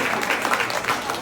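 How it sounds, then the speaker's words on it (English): Audience applause at a live music and comedy show, a brief, fairly loud burst of dense clapping from a crowd. "so give yourselves a big round of applause."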